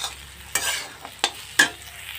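Soybeans and boiled potatoes fry in a pan while being stirred, giving a low steady sizzle broken by three or four brief scraping strokes of the spoon.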